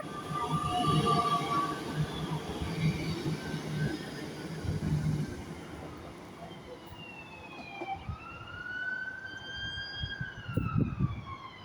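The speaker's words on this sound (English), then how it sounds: "And there goes that train away into the distance." A ScotRail train, a HST service to Edinburgh Waverley, departs Stirling station with a low rumbling roll of wheels and engine fading away, while a rising and falling siren-like tone sounds over the later part.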